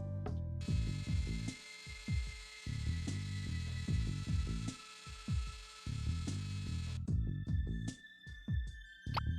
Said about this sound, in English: I might be able to use the lathe to grind the coffee beans.